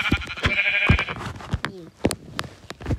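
Sheep in a video game bleat repeatedly in short, close, wavering calls, with other brief game sounds and clicks in between.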